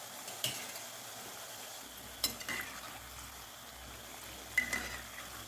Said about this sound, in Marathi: आपलं तेल छान असं कडक गरम झालेलं आहे एकदम छान असं गरम झालं ना आपण याच्यामध्ये आपण तयार केलेली कापणी टाकून घ्यायची